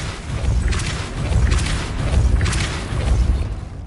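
Magic blasts from a Depulso force spell cast in Hogwarts Legacy sound as a series of loud, booming whooshes, four heavy pulses spaced roughly a second apart with rumbling low impacts beneath.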